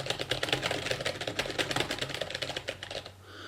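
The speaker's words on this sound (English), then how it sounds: "This is just me sort of typing at the keyboard and talking at the same time." Fingers tap rapidly on a computer keyboard near a Neewer NW-7000 microphone, a dense run of crisp clicks in an uneven rhythm that stops just before the end.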